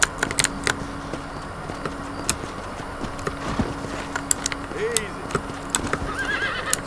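Hooves clop unevenly while a horse lets out a couple of short whinnies in the video game Red Dead Redemption, with a person's voice and a soft mechanical hum in the background.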